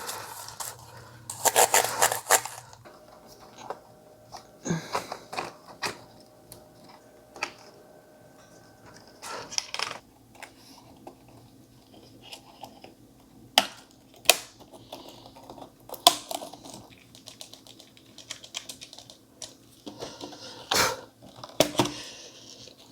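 Keyboard being pried out of an HP EliteBook 2760p laptop, with irregular close plastic clicks, snaps and scraping taps scattered throughout, no talking.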